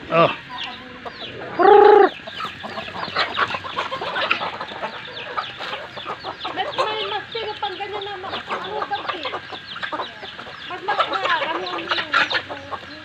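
Chickens cluck and chatter continuously nearby, with one brief louder call near the start.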